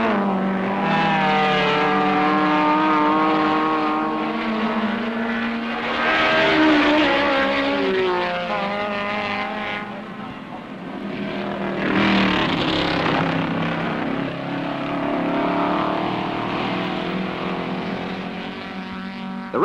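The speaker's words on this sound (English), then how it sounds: "a fine display of saloon car racing at its best" 1968 British Saloon Car Championship racing with 400 horsepower Ford Falcons and a Porsche, engines loud and continuous as cars pass, rising and falling with harmonic whines.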